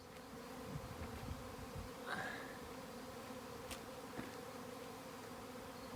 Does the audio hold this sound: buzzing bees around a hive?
yes